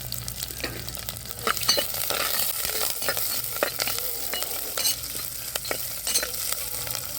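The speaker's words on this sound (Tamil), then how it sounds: "கடுவும் வெந்தயமும் நல்லா பொரிஞ்சிருச்சு அப்படியே கருவேப்பிலையும் சேர்த்துக்கலாம்" Curry leaves hit hot oil with fried mustard seeds and fenugreek while a fish curry is being cooked, giving a steady close sizzle and frying crackle that is broken by sharp pops and spatters throughout, with no talking.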